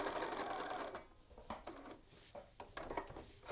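A sewing machine back tacks at the end of a button band seam, with a loud continuous run of stitching followed by short, separate bursts of stitching and small mechanical clicks.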